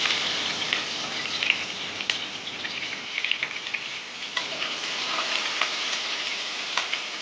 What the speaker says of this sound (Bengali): এবারে পাঁচ ফোড়ন দিয়েছি, এবার পেঁয়াজটা দিচ্ছি।